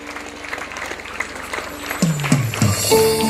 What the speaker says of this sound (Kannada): ತಾವೆಲ್ಲರೂ ಕೂಡ ಕೈ ಜೋರಾದ ಕೈ ಚಪ್ಪಾಳೆಯನ್ನು ನೀಡಿ